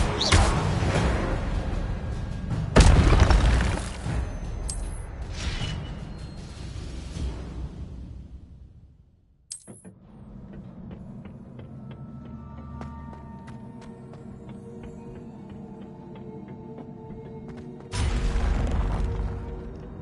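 Fire spell blasts and magical effects in the video game Hogwarts Legacy: a loud whooshing burst and booming impact, then a sudden drop to quiet, followed by creaking mechanical rumbles and another rushing blast near the end.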